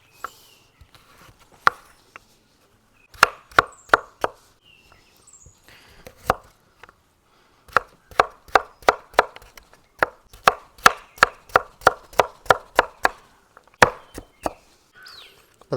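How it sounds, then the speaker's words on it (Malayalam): Washed carrots and beetroot are chopped with a knife on a board, sharp close clacks that come in scattered strokes and then quicken into steady rhythmic bursts, with no talk. "ഈ കഴുകിയെടുത്ത ക്യാരറ്റും ബീട്രൂട്ടും എല്ലാം നമുക്കൊന്ന് അരിഞ്ഞെടുക്കാം"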